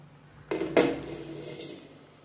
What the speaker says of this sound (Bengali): এবার আমি ঢাকনাটা সরিয়ে নিচ্ছি।